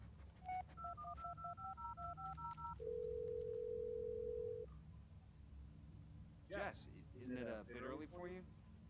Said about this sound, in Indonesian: Kita coba telepon si Jess, bisa?